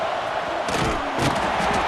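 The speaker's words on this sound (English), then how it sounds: "The roar of the crowd trying to fuel this defense to keep them pinned in their own end." A stadium crowd in College Football 26 roars loud and close, a dense continuous wash of many voices with brief surges of shouting.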